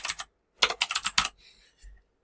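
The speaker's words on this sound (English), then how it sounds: "we're going to type in Mother" Typing on a computer keyboard: a couple of quick taps, then a fast close burst of several keystrokes, clean and crisp with no voices.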